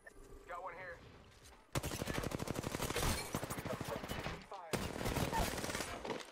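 Rapid automatic gunfire in Apex Legends, long, loud bursts of sharply repeating shots after a short quieter stretch, with a brief gap before another burst and a voice talking faintly underneath.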